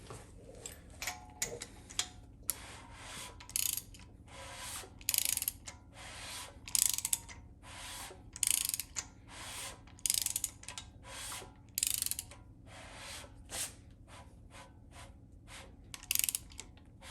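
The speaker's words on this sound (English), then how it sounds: "So now we're going to rotate the assembly around one more time." A ratchet wrench turns over an LSA 416 cubic inch V8 short block during cam installation, giving rapid clicking pawl bursts in repeated strokes with brief pauses, close and fairly quiet, no talking.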